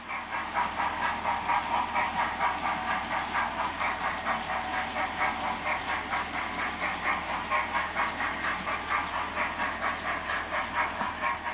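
A Hornby Lord Nelson R3603TTS model locomotive runs steadily, with a continuous close mechanical whirr and a faint rhythmic pulsing throughout, fairly loud and even, with no voices.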